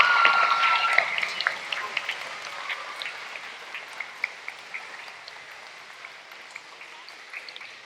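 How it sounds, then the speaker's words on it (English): An audience of schoolchildren and adults applauds at a STEM center ribbon-cutting ceremony at an elementary school, with clapping that starts fairly loud and slowly thins out, leaving scattered individual claps. "Let's give a big round of applause"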